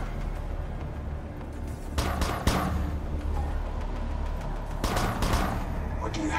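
Eldar snipers firing in Dawn of War III, a real-time strategy battle against Space Marines: a few sharp shots cut through a steady wash of battle noise and rumbling effects, with spoken unit lines in the mix.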